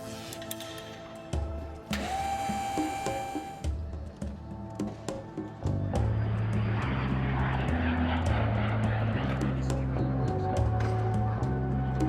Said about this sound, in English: we're up in the front flying the airplane